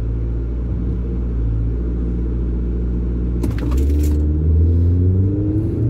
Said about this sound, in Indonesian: Sekarang kita akan mencoba akselerasi mobil ini dari 0 sampai 100 dan 100 sampai 140 seperti apa